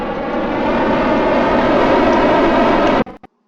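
A rocket engine in Kerbal Space Program roars at full throttle, a loud steady broadband rush of thrust that cuts off abruptly near the end, followed by a couple of short sputters and silence.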